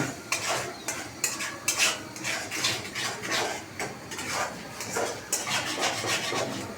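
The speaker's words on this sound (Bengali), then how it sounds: "এখন ডিম ফাটাইছে ডিম পেঁয়াজ ভাজির সাথে মিক্স করা হচ্ছে" A utensil scrapes steadily around a frying pan as cracked eggs are stirred into frying onions, making a continuous rhythmic rasp with repeated metallic clinks, close and fairly loud, with no talking.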